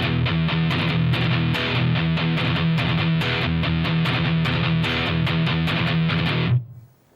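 Heavy distorted electric guitar riff in a metal rhythm style, alternate-picked chords at a slow tempo, loud and dense, playing steadily alone before cutting off abruptly near the end.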